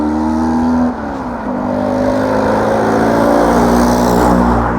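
A car with a loud exhaust roars past at close range on a village road, its deep engine note swelling, dipping briefly, then droning steadily and loudly as it goes by.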